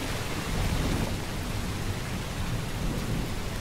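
Steady rain pouring outside a house, a dense, even hiss with low rumbling weight that carries on unbroken and fairly loud throughout, no voices present.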